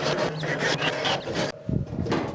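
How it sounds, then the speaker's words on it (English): Scraping food residue off the grates of a Weber Genesis grill, a rough rasping scrub in steady back-and-forth strokes, close and loud, with a brief pause partway through. "I'm just gonna scrape some of the food off"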